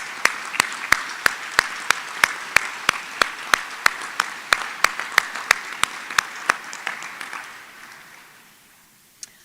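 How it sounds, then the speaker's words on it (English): Audience at an annual credit union meeting applauding competition participants: a sharp, regular, rhythmic clap repeating in near unison, fairly loud, gradually fading out toward the end. "And let's give you all a round of applause."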